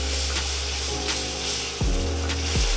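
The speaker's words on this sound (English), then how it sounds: "once we have that good light brown roux, we're gonna go ahead and stir in our beer" Beer is poured and stirred into a light brown roux in a hot pan, giving a steady close sizzle with brief scraping strokes of the spoon; no one speaks.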